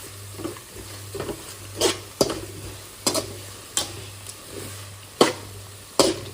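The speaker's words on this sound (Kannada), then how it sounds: "ಹಾಕೊಂಡ್ಬಿಟ್ಟು ಮಿಕ್ಸ್ ಮಾಡ್ತಾ ಇದ್ದೀನಿ" Stirring turmeric powder into onions frying in a pan: a steady low sizzle runs underneath while a spoon scrapes the pan in about eight sharp, evenly spaced strokes, close and clear, with no voices.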